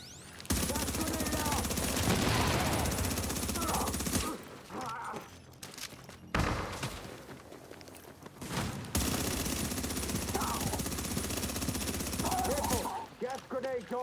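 Sustained automatic gunfire from The Division 2, dense and loud for long stretches with brief pauses, while a voice talks over the shooting.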